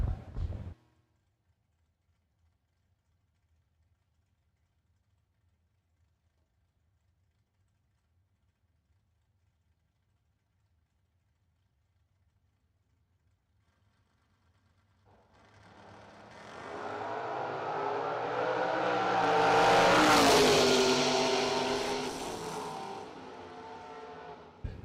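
Camaro drag race car at a drag strip, starting with a long near-silence before a distant engine roar swells into a loud, building run and then fades slightly at the end.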